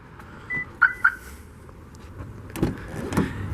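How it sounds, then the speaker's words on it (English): A 2016 Toyota RAV4 LE AWD key fob panic alarm goes off: a few short, bright electronic chirps come first, then two louder honking bursts a little later, heard at moderate distance with no one talking. "This one does include your typical Toyota key fob with lock, unlock, and panic."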